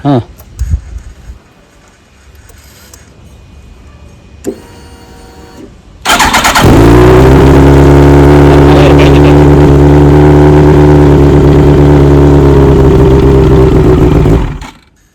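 A lightly tuned vehicle engine starts with a sharp catch, then idles and revs loudly and close with a strong, steady rumble for several seconds before cutting off; talk and clatter are heard briefly beforehand.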